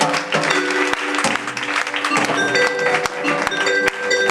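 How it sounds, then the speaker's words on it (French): A church congregation applauding during a service, with dense, lively clapping and a few sharp claps standing out, alongside voices and a sustained musical tone beneath. "On acclame le Seigneur."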